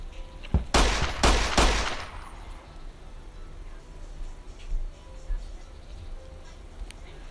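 Burst of video game gunfire: a quick cluster of loud shots over about a second and a half, then fading into quieter background game sounds and scattered faint noises.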